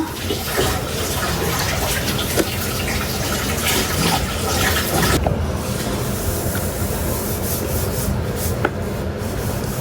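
Tap water runs steadily while fish are washed by hand in a home kitchen, with continuous splashing and rubbing close by and a few sharp clinks along the way.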